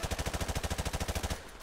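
Rapid automatic gunfire from a Call of Duty: Modern Warfare Remastered multiplayer match, a fast, even burst of loud shots that runs for over a second and then stops sharply.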